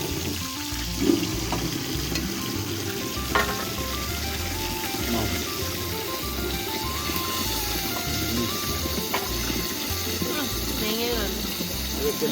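Fish sizzles in a karahi wok with a continuous, crackling hiss that holds steady throughout, with occasional brief clinks and faint household sounds beneath.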